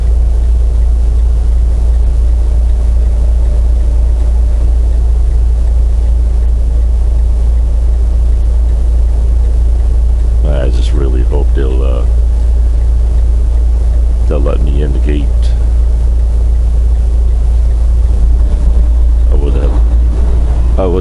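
A car drives along a road near Indianapolis, Indiana, giving a steady low engine and road rumble from inside the cabin throughout, with a few brief bursts of voices partway through.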